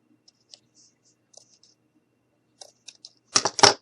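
Scissors snip a bow shape for a Kool-Aid container puppy craft, with a few faint scattered clicks followed by a couple of louder, close snips at the end.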